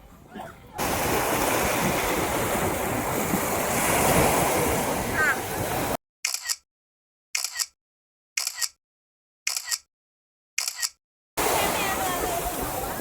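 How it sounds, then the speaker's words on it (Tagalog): Ocean surf roars continuously with heavy wind noise on the microphone, broken midway by a series of short bursts separated by silent gaps. "Ayun, ang ganda ng alon eh."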